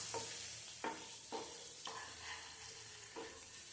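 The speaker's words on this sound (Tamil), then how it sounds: "இப்ப அவிச்ச முட்டையில பிரட்டிக்கலாம். ஸ்டவ் சிம்ல வச்சு பிரட்டி எடுத்துடலாம்." Boiled eggs tossed in a pan over a low flame with salt and spice powder, a soft sizzle running under several distinct scraping stir strokes at an uneven rhythm, close and fairly quiet.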